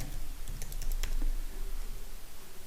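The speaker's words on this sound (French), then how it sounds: "Si par exemple je tape Albert" Quick typing on a computer keyboard while entering a default value into a WordPress contact form field, a close burst of irregular key clicks that fades into quiet room tone.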